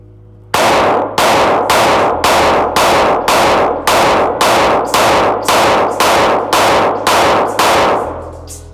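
A PSA Dagger Micro pistol fires about fifteen evenly spaced shots roughly half a second apart, each a sharp, loud crack with a brief ringing tail, heard up close with no talking.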